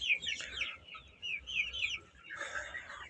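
Brahma chicks cheep in a busy run of high, thin peeps, close by, with short pauses between bursts.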